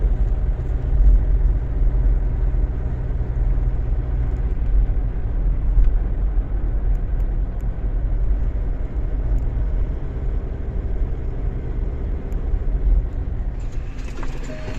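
A tractor heads out to the field for sowing sorghum with a Horsch Maestro 8 DV planter, its engine a steady loud low rumble that holds for the whole stretch, with no voices.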